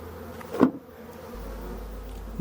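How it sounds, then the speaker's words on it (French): Honeybees in a queenless hive give off a steady, low droning buzz that continues throughout, with one brief louder swell near the start and no voices. "Donc déjà on voit peu d'abeilles et beaucoup de bruit."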